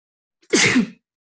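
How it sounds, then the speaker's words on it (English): A single sharp sneeze, close and loud, bursting out in one quick explosive blast after silence and ending abruptly. "I'm going to sneeze."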